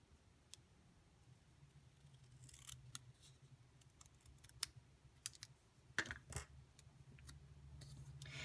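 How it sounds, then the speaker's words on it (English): Snips cut through cardstock for a handmade card in a quiet room, giving a scattering of faint, sharp clicks and snipping crunches that cluster toward the end. "take my snips and I'm going to cut it from this first little step right here"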